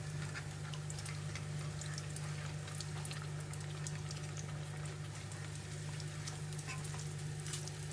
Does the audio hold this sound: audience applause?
no